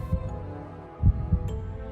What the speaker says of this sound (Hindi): दिल की धड़कनें फटने को हो रही थीं